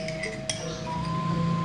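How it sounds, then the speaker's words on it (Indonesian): Ice cubes dropped into a glass of a cold homemade drink give a sharp clink, then a faint tinkle over a steady background hum in a kitchen. "Lalu diberi es batu untuk agar terasa dingin."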